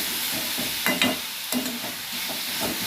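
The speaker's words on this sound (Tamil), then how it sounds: "போட்டு இதை நல்லா வதங்கட்டும்." Onion and tomato being sautéed in a pan while making Chettinad egg gravy: a steady, close sizzle with brief scraping stirs just before and after the one-second mark, continuing evenly without voices.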